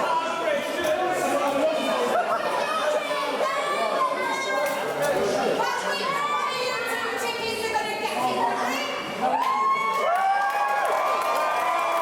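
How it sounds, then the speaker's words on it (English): A wrestling crowd at a live show jeers and heckles wrestler Dale Preston, a busy wall of shouting voices and whistles with excited individual yells rising above, close and loud throughout. "And the crowd there giving Dale Preston a fair bit of stick"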